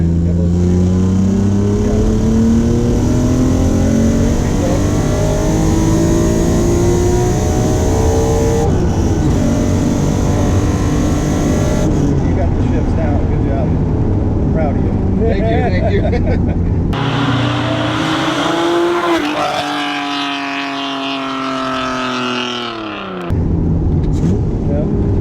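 A 1991 Acura NSX, mid-engine, revs hard through rising gears, its engine note climbing in loud sweeps with a brief shift gap, then a sharp final pull before easing off; voices talk over it.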